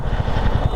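A Royal Enfield Classic 350 motorcycle rides through Lucknow streets, its engine thumping in a fast, close, loud pulsing rhythm over a short burst.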